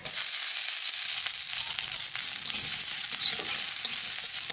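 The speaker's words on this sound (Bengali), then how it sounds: "তেলের পর দিয়ে দেবো শুকনো লঙ্কা, সর্ষে, আর দেবো কটা কাঁচা লঙ্কা।" Dry red chillies and mustard seeds frying in hot oil in a pan for a Bengali greens dish, a steady loud sizzle with faint crackles and stirring scrapes throughout, no voices.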